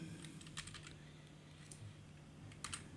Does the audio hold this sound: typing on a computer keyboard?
yes